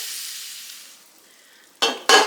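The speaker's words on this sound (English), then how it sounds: "now I'm just going to brown this up with my onions" Ground beef browning with onions in a pan gives a loud hiss that fades away. Two sudden bursts of sharp sizzling and scraping follow as the meat is stirred.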